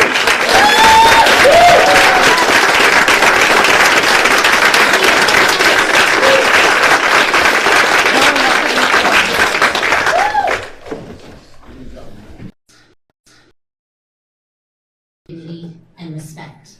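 A crowd at a Portland Public Schools board rally applauds students, loud sustained clapping and cheering for about ten seconds before fading out, followed by silence and then a few words of speech.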